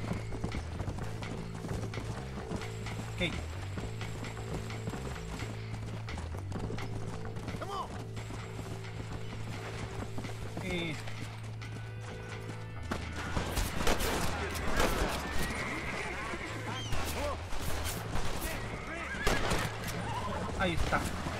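Horse hooves clip-clopping with neighs and whinnies in the Western video game Red Dead Redemption, steady galloping rhythm joined by mechanical clatter and gunfire bursts, heard under someone speaking Spanish.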